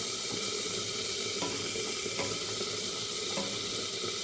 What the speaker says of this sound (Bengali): এবার সব কিছুকে একটু মিলিয়ে মিশিয়ে নেবো।